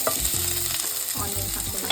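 Cumin seeds frying in hot oil while a vegetable filling for bonda is started, a steady close sizzle with a spoon clinking and stirring in the pan, no voices.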